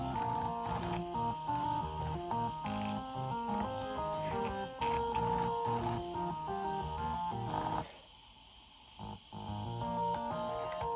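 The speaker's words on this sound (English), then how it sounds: "This sounds much better than I would have thought motors can sound." Stepper motors in a homemade music player buzz out a tune, a whiny electric-toned melody with chords and a constant mechanical hum, pausing briefly near the end before resuming.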